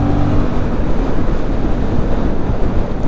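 A Yamaha MT-07 motorcycle rides along, its steady engine drone buried under heavy, continuous wind buffeting on the microphone, loud and without speech.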